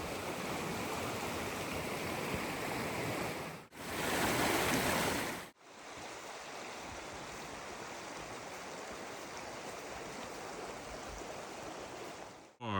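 The Blaeberry River rushes along in a steady, loud, close-up flow of water, constant throughout with only brief dips where the sound cuts out.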